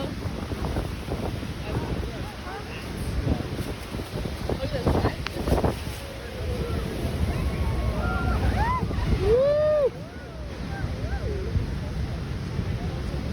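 Niagara Falls roars from aboard the Maid of the Mist boat, a broad rushing wash of falling water with strong wind buffeting, while people talk and cheer over it.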